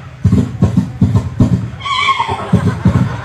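A voice imitates a horse whinnying at a haul memorial gathering, a rising, shaky neigh breaking in midway between short, punchy vocal bursts, fairly loud and close.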